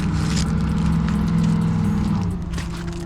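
An Audi's engine runs while the car sits stationary, a steady, loud droning hum with a strong low tone that eases slightly near the end, alone without speech.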